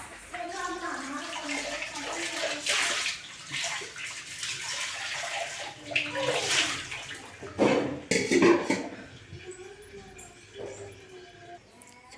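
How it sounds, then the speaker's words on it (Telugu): Water poured into a cooking pan on the stove, a steady splashing rush that rises and falls over about twelve seconds while someone talks intermittently nearby. "కొంచెం వాటర్ కూడా యాడ్ చేస్తున్నాను"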